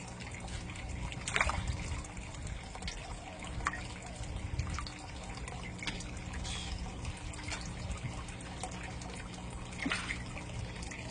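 Bluegill feeding at the surface make small, irregular splashes and water trickles close by, scattered over a quiet background.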